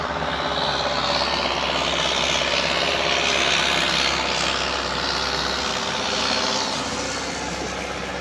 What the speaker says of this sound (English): When a speedboat goes by, it makes the entire raft shake.